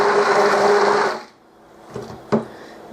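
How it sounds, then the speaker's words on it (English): A cheap blender whirs loudly in a short burst while mixing shampoo soap, then cuts off abruptly into near quiet with a couple of small knocks. "this is a cheap blender, so I'm only doing short bursts and then a stir"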